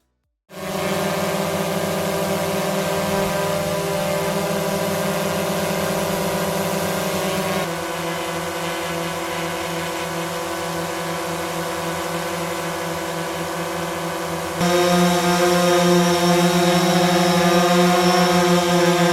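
Close-up whine of a DJI Mavic 2 Pro drone's propellers running steadily at about half a metre, a loud dense multi-tonal buzz that shifts pitch twice, dropping slightly then rising louder near the end.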